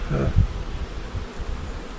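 Honeybees buzzing around open hives during a fall hive inspection and honey harvest, a low, steady drone with a few louder passes close by early on, continuing faintly throughout.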